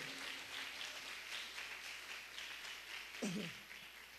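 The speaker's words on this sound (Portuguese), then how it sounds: "Dê uma salva de palmas ao Senhor" A church congregation gives a round of applause during a Sunday service, soft and steady clapping heard from a distance, with a short voice breaking through near the end.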